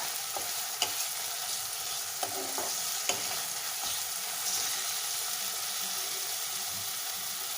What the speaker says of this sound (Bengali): আদা রসুনটা একটু ভাজা ভাজা হবে, নাহলে কাঁচা গন্ধ ছাড়বে।